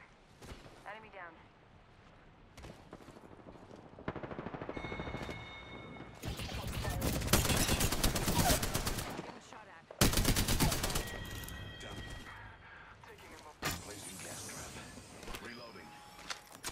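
Repeated bursts of automatic gunfire from Apex Legends, loud and close, ring out in clustered volleys with short gaps between them, mixed with game sound effects and game voice lines.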